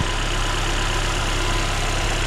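The engine of a 2020 Mercedes-Benz A35 AMG idles with a steady, loud and close low rumble, constant throughout without revving or voices.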